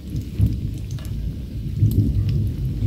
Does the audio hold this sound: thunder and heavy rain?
yes